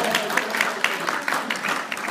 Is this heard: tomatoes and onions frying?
no